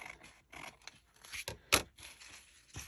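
Scissors snip down paper craft tags in a series of short, quiet cuts and crisp scrapes, with one sharper snip standing out near the middle and no talking.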